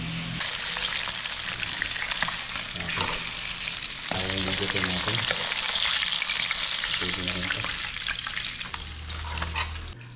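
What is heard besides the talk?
tilapia fish frying in oil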